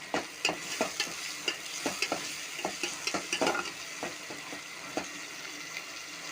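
Tomato and coriander mixture bubbling in a pan, with a steady close sizzle broken by a dozen or so sharp scraping clicks from stirring at an uneven rhythm.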